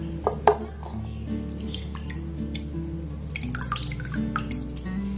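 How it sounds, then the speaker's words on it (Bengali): Washed pumpkin pieces are lifted so water drains off them, with irregular drips and splashes over a steady low background hum, close and fairly quiet, with no talking. "এবার এটাকে আমি জল ঝরিয়ে উঠিয়ে নেব।"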